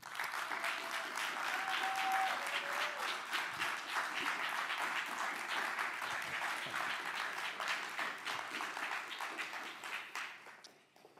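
Audience at a TEDx college talk applauding a speaker, steady full-room clapping for about ten seconds that thins and fades out at the end.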